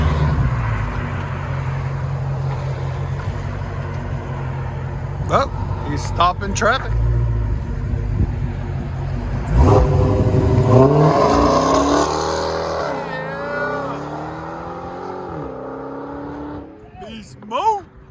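A Dodge Challenger SRT Hellcat with a 6.2L V8 launches at sunset, its exhaust a loud, deep roar for several seconds before fading as excited voices talk and cheer over the dying rumble.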